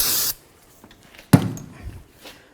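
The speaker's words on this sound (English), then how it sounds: "Go ahead and spray it down with some brake parts cleaner." Brake parts cleaner sprayed from a can onto a new front brake rotor for a 2014-16 Toyota Corolla: a short, loud hissing burst, then quiet and a single knock as the part is handled.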